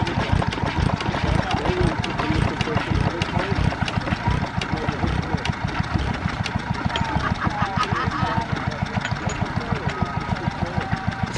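A 1910 International Harvester Famous 2.5 hp antique engine running: a steady, close, rhythmic chugging beat of firing pulses that holds an even pace throughout, with people talking nearby.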